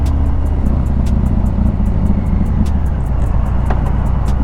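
Harley motorcycle pulling hard on a freeway, a continuous loud engine and wind roar with a strong low rumble, heard up close from the rider's position.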